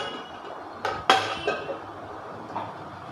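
A metal lid clatters onto a cooking pot of bitter gourd: a few sharp clinks and knocks close by, then the quiet hum of the kitchen.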